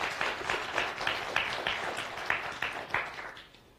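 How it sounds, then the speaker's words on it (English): A small symposium audience gives panelists a round of applause, a short run of distinct claps that thins and fades toward the end, moderately close in a quiet room. "Let's just give our panelists a round of applause"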